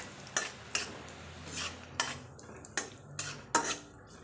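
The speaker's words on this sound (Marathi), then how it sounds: "हे पहा काजू आपलं मनुकेसुद्धा तळून निघले. थोडं 1-2 मिनटं थोडंसं तळून देते अजून छान." Cashews and raisins fry in oil while a spatula repeatedly clinks against the pan in sharp, irregular taps over a faint frying hiss, close by with no voices.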